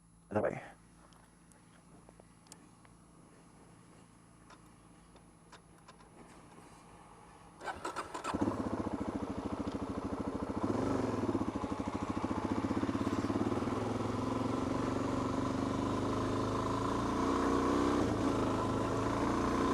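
A Suzuki DRZ400 dirt bike engine fires up after a quiet stretch, then drones steadily as it rides over a loose surface, rising and holding close, with a person's voice also present.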